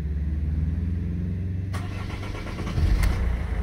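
A car engine cranks and catches after the ignition key is turned in a lock that had been sticking, moving from a steady low hum into a rougher, louder running rumble with a brief burst near the end.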